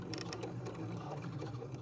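Sewing machine stitching a pocket onto fabric for a face mask: a quiet, continuous rapid needle chatter with a steady mechanical hum, close and unbroken, with no talk.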